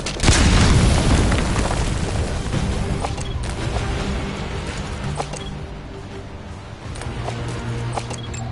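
A thrown grenade goes off in a Metal Gear video game, opening with a loud, deep boom that rolls on as a long, rumbling decay with scattered debris and clatter.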